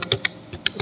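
Fingers tap on a computer keyboard while entering data into a spreadsheet, a quick burst of close, crisp keystrokes lasting under a second.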